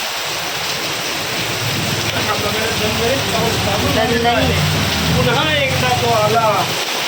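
Heavy rain pours outside in a dark evening, a dense, continuous roar filling the whole stretch while voices talk close by over it.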